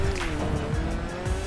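Race car in GTA Online roaring at high revs with sustained engine drone and tire squeal, loud and continuous throughout.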